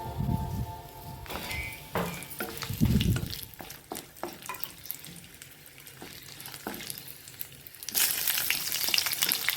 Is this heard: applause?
no